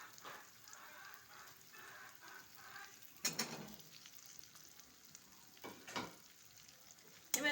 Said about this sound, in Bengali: এবার এটাকে ভালো করে নেড়ে চেড়ে রান্না করে নিতে হবে